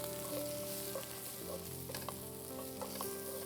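Powdered spices like coriander, red chili and turmeric being stir-fried with ingredients in a pan, a quiet sizzle with soft scraping and a few light taps over a low steady hum, brief and faint.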